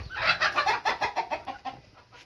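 Free-ranging hens cluck close by in a quick, rhythmic series of short calls, loud and continuous for a couple of seconds.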